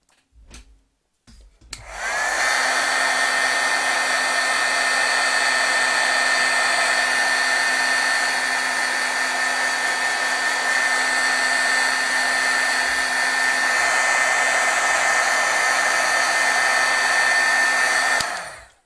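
A heat tool blows hot air over stamped ink on cardstock to set it, clicking on after a couple of seconds of quiet and then running as a loud, steady whirring hum for the rest of the clip before cutting off at the end.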